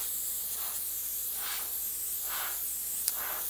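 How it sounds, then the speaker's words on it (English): An airbrush sprays paint in a continuous fine hiss, with soft rhythmic swells as the strokes pass, close and alone without talk. "I'm aiming my airbrush downward at this point"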